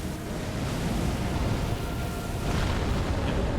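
Continuous booming, rumbling blasts with a dense roar, fireball explosions going off back to back in the video game Elden Ring, slightly swelling toward the end.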